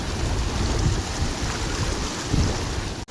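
Strong river current rushing past at Kilaiyur River, a steady loud wash of water with heavy low rumble and wind buffeting the microphone, continuous throughout before cutting off abruptly at the end.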